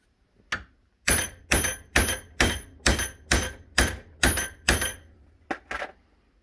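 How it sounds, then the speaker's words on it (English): A hammerhead being whacked to knock it loose from its handle: about nine loud, sharp metal strikes in a steady rhythm, close up, followed by a couple of quicker lighter taps, with no talking. "Sometimes just whacking things is the best way."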